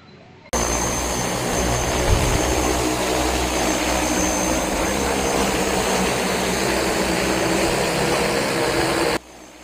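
A DJI agricultural spraying drone flies a variable-rate mission at 3.5 metres height, its propellers giving a loud, steady whirring roar that starts abruptly, holds constant for about nine seconds, then cuts off.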